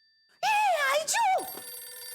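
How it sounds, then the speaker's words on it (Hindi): Inside a house, a mobile phone starts ringing with a melodic, warbling ringtone that cuts in suddenly, close and clear, then settles into a steadier tone, with no talking over it. "जेठिया का फोन घर में ही है।"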